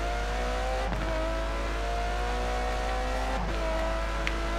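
A supercar in Forza Horizon 4 drives and accelerates, its engine note steadily climbing through the revs with a couple of brief gear-shift dips, loud and continuous with no talk.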